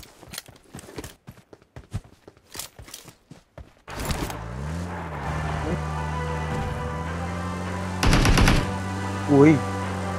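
Rifle gunfire in PUBG Mobile on Erangel: a burst of sharp distant shots crackling in quick succession, then a louder continuous engine-like drone with a few harder bangs, under occasional voices.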